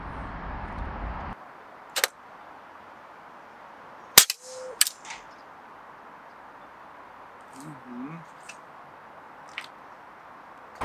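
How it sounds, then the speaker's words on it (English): A custom-built, non-regulated PCP air gun firing heavy .22 caliber slugs: a few sharp, separate cracking reports spaced seconds apart, close and loud against a low background hiss. "this is my custom built air gun for shooting heavy slugs in 22 caliber"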